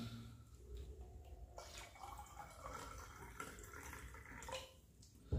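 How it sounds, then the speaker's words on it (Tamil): Water trickles and drips steadily as it is poured into a glass of Scottish Royal blended Scotch whisky, a soft close liquid sound with no talking. "இது நம்ம தண்ணி ஊற்றி ட்ரை பண்ணுவோம்"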